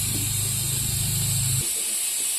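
Hot oil heating in a pan for a vegetable curry, a steady close hiss with a low hum that cuts out partway through, no talking.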